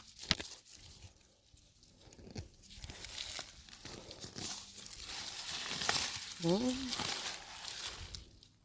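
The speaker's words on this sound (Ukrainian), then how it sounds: "Так, рвемо цибульку." Onions being pulled up from garden soil, with close rustling, tearing and crinkling of stems and dry leaves in irregular bursts, and a voice speaking briefly.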